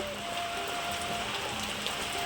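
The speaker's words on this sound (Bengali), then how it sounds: "একদম মুসুল বৃষ্টি নেমেছে" Heavy rain pouring down outside a house, a dense, even hiss of drops on surfaces that holds steady throughout, with a faint tonal hum underneath.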